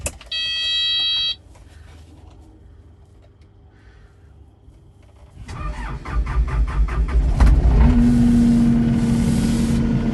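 A Kubota KX080-4 8-ton excavator's diesel engine starts after a short electronic beep. It rises into a loud, steady idle with a low rumble and a whine as it warms up. No voice is heard.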